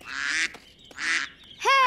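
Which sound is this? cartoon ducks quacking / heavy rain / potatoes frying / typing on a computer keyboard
cartoon ducks quacking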